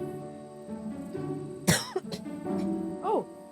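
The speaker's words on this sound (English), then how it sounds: "Took a breath and started coughing." A person coughs in one sharp, loud burst, followed by a shorter second cough, with a brief rising throat sound near the end and indoor background hum throughout.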